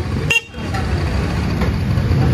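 A Honda Dio scooter horn gives one short, bright toot, followed by low idling engine rumble and faint clicks.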